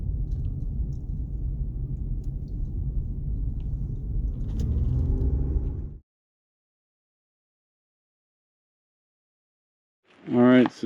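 A pickup truck on a mountain road rumbles with a low engine drone for several seconds, then cuts off abruptly into silence before a brief loud burst at the end.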